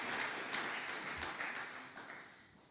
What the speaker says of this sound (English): A final round of applause to our 3 rapporteurs.